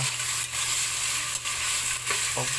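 Meat sizzles and fries in a pan after being added to sautéed onions, a steady near hiss with a few brief stirring scrapes and knocks, no voices.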